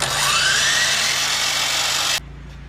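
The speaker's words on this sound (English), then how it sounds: "We're gonna cut off all these tails now to even up these brackets." A power saw cuts the tails off wooden corbel brackets for a fireplace mantel, whining loudly and steadily close up for about two seconds before stopping abruptly, leaving a low hum.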